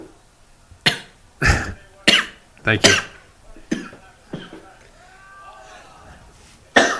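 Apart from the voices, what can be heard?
coughing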